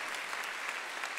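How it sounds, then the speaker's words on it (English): Audience at a percussion concert claps in a brief, faint burst of dense applause. "another round of applause for Mr. Flint would be awesome."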